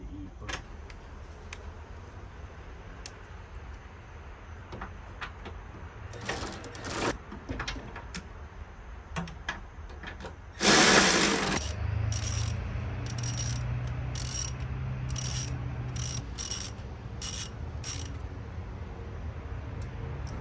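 A ratchet snugs down the engine-side motor mount bolts on a Honda CR-V 1.5T (L15B7): scattered metallic clicks, one loud burst, then a run of quick repeated ratcheting clicks over a low steady hum in a quiet garage.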